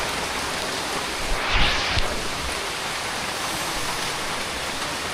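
Heavy rain pours down steadily while overflowing runoff water rushes along the ground, a dense, even roar with a brief louder surge partway through.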